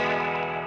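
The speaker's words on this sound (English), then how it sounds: "So there's my Leslie sound." Electric guitar run through an Eventide H9 pedal set to a fast Leslie rotary speaker effect with a slight volume boost, giving a sustained, swirling chorus-like tone that plays alone and fairly loud.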